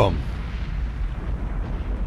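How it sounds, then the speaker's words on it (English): A big deep explosion in the submarine game Cold Waters, a loud boom that quickly settles into a long heavy rumble. "That was probably pretty loud, I'm sorry, but that was a big explosion."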